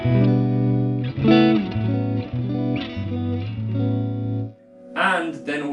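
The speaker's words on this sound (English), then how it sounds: "we've got a beautiful reverb" Electric guitar played through a Vox amp with its reverb on, a series of sustained chords and notes ringing out with a lingering wash of reverberation, ending in a brief plucked flourish.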